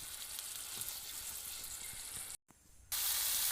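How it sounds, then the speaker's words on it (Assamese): Garlic stirred into duck meat frying in a pan, a steady close sizzle with faint scraping, briefly dropping out before returning louder. "আৰু এয়া ৰচুন দি দিলোঁ আৰু এইখিনি লৰাই দিছোঁ এবাৰ"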